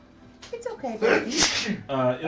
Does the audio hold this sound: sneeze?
yes